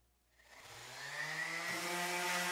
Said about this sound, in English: the final step before applying the finish was more sanding